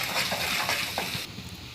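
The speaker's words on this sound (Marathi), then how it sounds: "आता यामध्ये अद्रक लसूणची पेस्ट आपण टाकून घेऊ." Ginger-garlic paste hitting hot oil with green chillies in a pan while cooking okra, giving a steady close sizzle with a few scraping stirs, then quieting toward the end.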